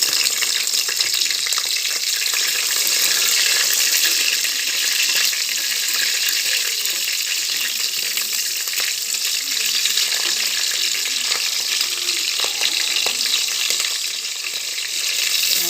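Green chillies fry in hot oil for a carrot, bean and tomato veg kurma, giving a loud, continuous hissing sizzle that stays steady throughout with no pauses.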